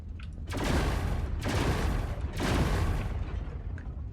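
Snapper guns firing in the Star Citizen space game, three long, loud bursts of rapid booming fire about a second each, separated by short gaps.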